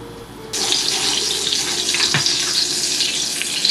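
About two tablespoons of butter melt in a hot saucepan for caramelizing onions, giving a steady, close sizzle and hiss that starts abruptly and holds at an even level, with no talking.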